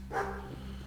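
Dogs bark in the video game Pathologic, a brief, fairly loud burst of barking over a steady low background hum, with no talking.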